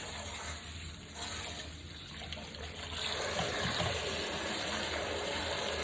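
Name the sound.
cool water running from tap into basin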